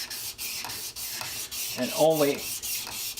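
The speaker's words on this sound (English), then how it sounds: "by laying this flat on the sharpening stone, it rides up on that front edge" A steel blade cap from an antique Stanley No. 8 plane is rubbed flat on a sharpening stone, with repeated soft scraping strokes up close, while someone speaks a few words over it.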